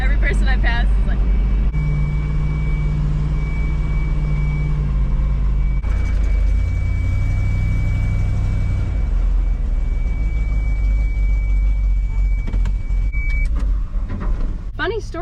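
Steady, loud interior road noise from a truck being driven, an unbroken engine and tire drone throughout, with a faint high whine through the middle and no speech.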